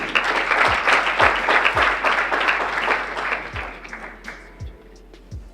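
An audience at an awarding ceremony for a capital market university challenge applauds, a steady wash of many hands clapping at close range that slowly thins and fades toward the end.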